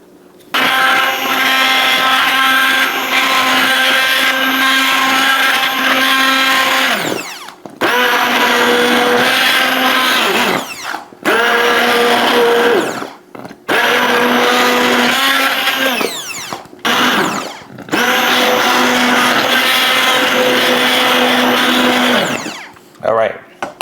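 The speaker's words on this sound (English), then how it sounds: "we'll hit it with the blender" A kitchen blender purees homemade applesauce in several loud whirring bursts separated by short pauses.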